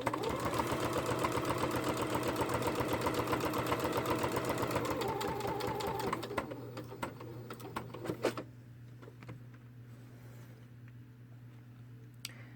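A sewing machine stitches in fast, steady bursts for about six seconds, then stops, leaving a quieter low hum broken by a few sharp clicks and handling noises.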